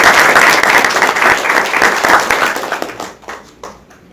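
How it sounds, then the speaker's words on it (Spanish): Audience applause filling an auditorium at a circular economy talk in Cajamarca, dense and loud for nearly three seconds before thinning into scattered claps and fading out. "Un aplauso para..."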